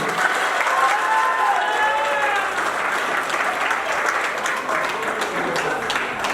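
Guests at a Nepali Christian wedding ceremony clapping in sustained, loud applause that fills the room, with faint voices mixed in.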